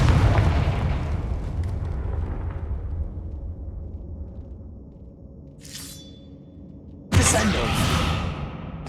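In Hogwarts Legacy, a Confringo fire spell bursts in a deep rumbling boom that fades slowly, followed by a brief magical whoosh and a second sharp blast near the end.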